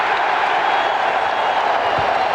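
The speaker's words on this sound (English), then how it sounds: "the reason this building is so loud at this moment is that Stephon Marbury has been orchestrating the crowd during Vin Baker's free throw attempts" Roaring arena crowd at a 1998 NBA playoff game between the Seattle SuperSonics and Minnesota Timberwolves during free throws, a dense, sustained wall of cheering and noise that stays loud throughout.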